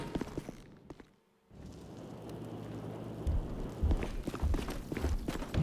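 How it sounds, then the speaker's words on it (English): Heavy footsteps stomping along in GTA Online during the Cayo Perico Heist, a steady run of thudding steps that grows louder after a brief quiet gap, set against a rain-like wash of background noise. "You always hear his feet stomping"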